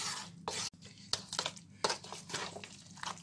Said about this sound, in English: Just stir it gently. Make sure it's all mixed in.